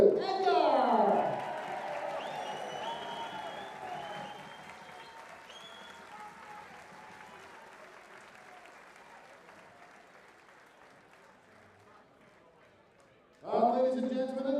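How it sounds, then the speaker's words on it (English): A large crowd at the Lakeside World Darts Championship applauds a darts player, loud at first and then slowly fading. An announcer speaks just before the clapping and again as it dies away. "a massive round of applause for Matthew Edgar"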